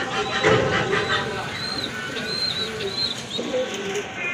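Lakkha fantail pigeons, a large-sized pair offered for sale, coo and warble softly and repeatedly at close range, over a background murmur of other birds and faint voices.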